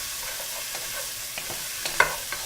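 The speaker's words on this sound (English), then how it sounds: "And then you'll saute this for about 5 minutes" Garlic and curry sauteing in a pot, stirred with a steady close sizzle and a few soft scrapes and clinks of the utensil, without talking.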